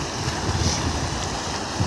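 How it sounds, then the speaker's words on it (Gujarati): Heavy rain-swollen water pours over a dam in a continuous, close, loud rushing wash, with slight surges in the flow and no talking. "એટલું પાણી પડે ને અહીંયાથી એટલું પાણી જાય છે"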